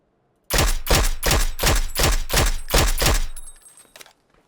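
Rapid gunfire from the battle-royale video game PUBG: about eight loud, evenly spaced shots in quick succession, followed by a short decaying tail with faint metallic clinks.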